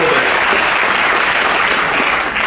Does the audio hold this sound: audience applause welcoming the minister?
yes